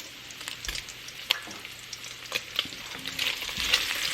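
Bacon frying in a pan for a beef pot pie, a quiet, steady sizzle with scattered sharp pops and crackles, and occasional clinks near the end.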